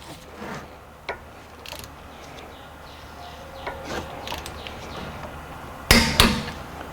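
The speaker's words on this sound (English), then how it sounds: "So now we're going to torque the third one up here." Ratchet torque wrench tightening a bolt during rear wheel bearing replacement on an Acura MDX, with scattered faint clicks and then a sharp, loud burst of two close clicks near the end.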